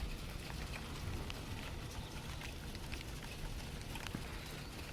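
Soft, steady patter of raindrops falling on a surface, faint and continuous with no voices.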